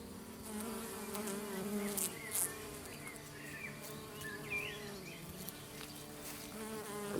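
Bees kept for study at the UBC Farm buzz softly and continuously at close range, with individual insects droning past in wavering passes over a quiet outdoor background.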